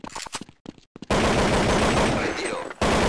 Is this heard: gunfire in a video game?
yes